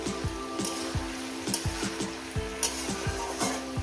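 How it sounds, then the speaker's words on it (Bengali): Onions frying in a pan for a Bengali alu barboti posto, a steady near sizzle with regular soft stirring scrapes and clacks every half second, no talk. "এরপর দিয়ে দেবো পেঁয়াজটাকে আরও আমি তিন মিনিট ভেজে নিয়েছি"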